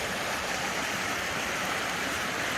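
Creek running high after a night of heavy rain, a steady, close rush of flowing water that fills the whole stretch without a break or voice.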